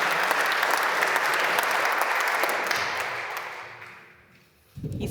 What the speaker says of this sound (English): Give her a big applause for doing this so spontaneous.